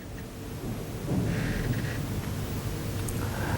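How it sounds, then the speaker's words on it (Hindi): Continuous rain with low rumbling thunder during a heavy monsoon downpour in Tikamgarh, Madhya Pradesh, a steady wash of noise that swells slightly after the first second, heard alone. "तो लगातार बारिश जारी है"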